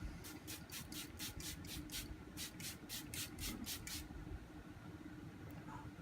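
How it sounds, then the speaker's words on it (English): A rapid series of short spray bursts of makeup setting spray onto a face, about a dozen quick spritzes in a row, faint against a low background rumble. "So I just like to spray this to make it a little bit more lively."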